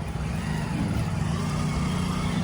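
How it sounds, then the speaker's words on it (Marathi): A vehicle passes close by on the road near Tulsi Vrindavan in Pandharpur, a steady low engine rumble lasting the whole short stretch with no voices. "बाजूला गाडी येते"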